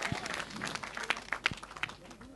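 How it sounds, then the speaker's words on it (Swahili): An audience claps for a dignitary at a handover of 50 motorcycles to police in Arusha, a moderate scattered round of applause with a voice heard among the claps. "Pasha, makofi kwa mheshimiwa"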